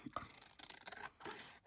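Scissors cut paper at a desk during holiday crafting, making soft, close crisp snips and rustling rasps, faint and uneven over about two seconds with no talking.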